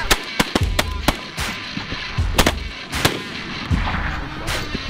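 Shotguns firing during a waterfowl hunt in North America, a rapid volley of loud, sharp blasts from several guns close together, with a booming report and trailing echo after several shots, and no talk.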